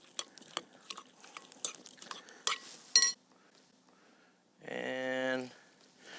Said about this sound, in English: a little more garlic, some salt, fresh cracked pepper, and let's give this a little mix.